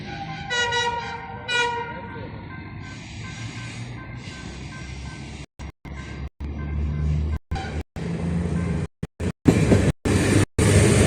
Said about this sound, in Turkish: şu an tren geliyor